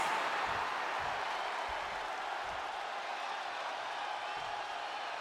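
A WWE 2K25 SmackDown arena crowd cheering for Carmelo Hayes, a steady wash of roaring applause and crowd noise that holds level throughout without a break.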